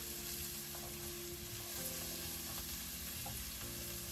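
Carrots and rice fry and are stirred in a pan on the stove, a steady soft sizzle with scraping stirs and no talking.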